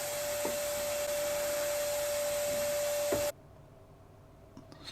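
A vacuum cleaner runs steadily while clearing sanding dust from wood, with a constant whine and a loud roar. It cuts off abruptly partway through, leaving near silence with a few faint knocks.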